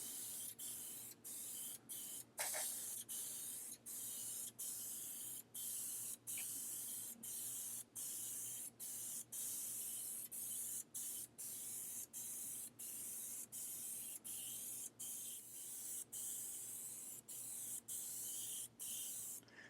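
Aerosol spray can laying a microflake coat onto the face of a car wheel, a steady close hiss running nearly continuously in short repeated passes with brief gaps between bursts.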